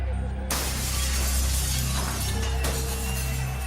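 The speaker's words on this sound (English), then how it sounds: "Window after window was shattered in stores and boarding houses as the riotous gang pushed" Store and boarding-house windows shatter during a riot, with loud crashing glass and a second sharp burst partway through over a dense, continuous crowd roar.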